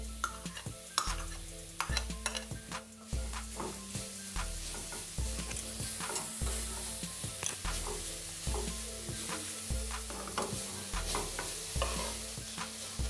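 Grated coconut is stirred and fried in a hot wok, a spatula scraping in a steady repeating rhythm over a constant sizzle, close and clear with no talking.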